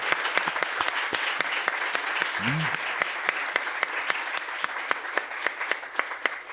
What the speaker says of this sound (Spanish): Lo podemos recibir con un aplauso, sería muy bueno.